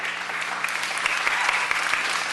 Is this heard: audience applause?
yes